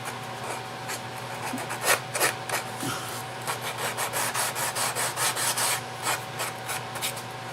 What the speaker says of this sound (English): So we're just sanding that smooth and getting it to the place where we'll put our first coat of lacquer on it.